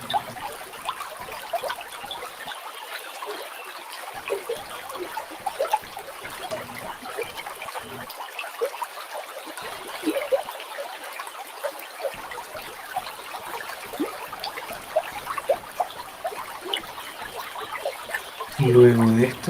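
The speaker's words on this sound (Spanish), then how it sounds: "el sonido del río nos acompaña también" River water flows continuously in the background, a steady trickling and bubbling stream sound lasting throughout, with soft speech over it.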